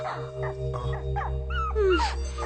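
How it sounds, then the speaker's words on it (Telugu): A dog gives a few short, high whimpers and whines close by, rising in pitch toward the end over a low background hum. "ఈ కుక్క నాదే."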